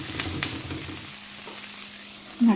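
An instant dosa cooks in a pan right after being flipped, giving a close, steady sizzle with light scraping near the start that fades to a quieter fry and ends with a short clatter.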